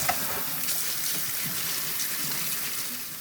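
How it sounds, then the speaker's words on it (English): Cold tap water runs steadily over beef ribs being rinsed in a sink for galbitang, a continuous close splashing hiss with no speech. "And then, just gonna rinse it one more time."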